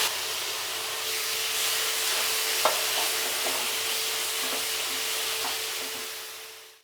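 Thick curd goes into a sizzling masala for aloo chilly fry, giving a loud, steady frying hiss close up with a few faint spoon taps against the pan.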